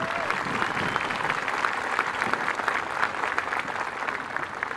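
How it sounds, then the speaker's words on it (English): A graduation audience at Bayonne Midtown Community School's 2023 ceremony gives a full round of applause, steady and even, filling the hall from start to finish. "Let's give them a nice round of applause."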